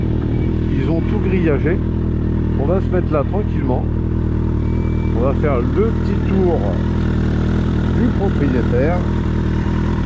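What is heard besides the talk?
1996 Suzuki Bandit 1200 motorcycle engine running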